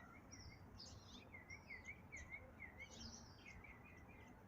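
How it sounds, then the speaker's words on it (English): Birds sing after a morning rain: repeated clear chirps and warbling phrases, fairly faint and a little distant, over a quiet, damp outdoor background. "Birds have actually come out and start singing."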